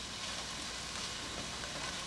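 Garlic, endive, shallots and onion sauté in a pan with a steady, faint hiss and crackle of frying that holds evenly throughout, with no voices.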